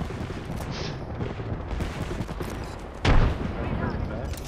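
Rapid gunfire in a shooter video game as a player is shot in the back, a dense crackle of shots with a louder burst near the end, over steady background game noise.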